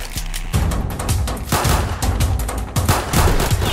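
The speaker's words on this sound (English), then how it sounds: "Oh, someone's shooting." Gunshots in a Roblox hood roleplay game: repeated loud bursts of rapid fire in several volleys, close and dense, with no talking over them.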